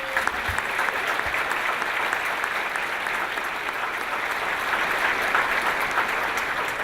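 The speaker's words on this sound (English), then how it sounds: "I'd like for all of us to give a round of applause to our Bexar County State Delegation" An audience at a mayors' event in San Antonio breaks into sustained, even applause, a dense wash of clapping from many hands that holds steady throughout.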